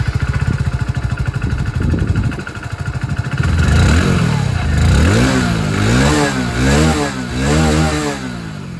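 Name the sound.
Hero Passion Plus 100cc motorcycle exhaust sound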